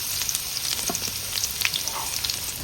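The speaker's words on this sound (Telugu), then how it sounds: "పచ్చిమిరపకాయ ముక్కలు యాడ్ చేస్తున్నాను, అలాగే ఉల్లిపాయ ముక్కలు యాడ్ చేస్తున్నాను." Chopped green chillies and onions go into hot oil for paneer fried rice, sizzling steadily up close with sharp crackles and spits scattered through.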